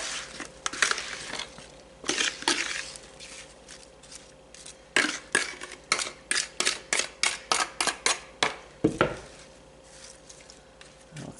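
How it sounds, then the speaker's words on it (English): Apple pie filling stirred in a bowl, a run of sharp, regular scraping and clacking strokes that quicken toward the end, with quieter rustles between bursts. "We stir up our apple stuff and throw it in a pie."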